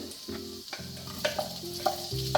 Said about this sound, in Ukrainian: І смажимо до золотистої скоринки.